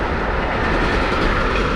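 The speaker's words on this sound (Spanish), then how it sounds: "¿van a pasar todos los trenes ahora?" A train rumbles past close by, a loud, steady roar of wheels and carriages with faint clickety-clack throughout.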